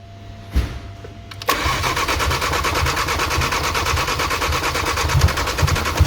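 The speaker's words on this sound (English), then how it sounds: "crank again." A rebuilt Daza engine with full exhaust fitted cranks briefly after a sharp click, then catches and settles into a loud, steady, rapid rhythmic idle that keeps running close by, with no talking.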